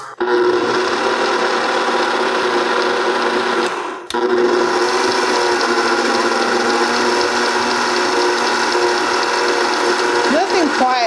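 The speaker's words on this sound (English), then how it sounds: "I'm going to stir with my mixer." A powerful Viking stand mixer whirring steadily as it stirs strawberry bread batter, a loud mechanical motor whine with one brief pause partway through.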